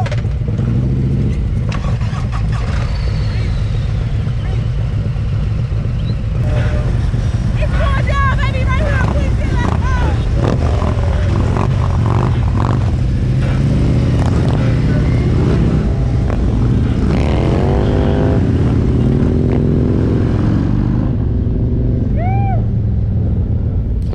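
A group of Harley Road Glide bagger motorcycles rides through Tennessee mountains, with loud continuous engine rumble and wind roar, rising revs, and voices talking over the noise.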